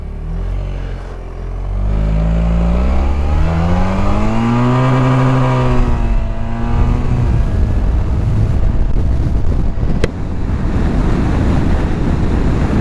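Suzuki Burgman 650 scooter engine revving up as it accelerates, a rising drone climbing steadily in pitch over several seconds, then settling under heavy wind rush that persists to the end.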